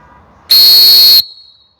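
A coach's or referee's whistle blown hard, one loud, sustained shrill blast of under a second that cuts off sharply, with a faint ringing tail.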